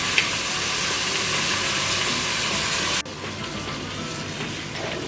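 Marinated pork coated in salt, curd and curry masala hits a hot pan with a loud, steady broadband sizzle that drops slightly in level partway through, frying continuously with no voices.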